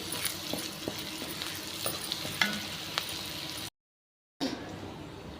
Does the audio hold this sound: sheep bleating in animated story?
no